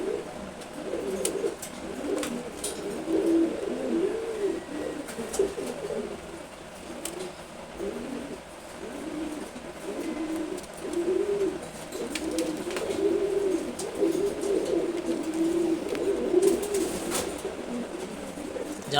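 Silver Gorra pigeons coo in soft, repeated throaty phrases close by, a steady murmuring rhythm over quiet background with a few faint chirps and no talk.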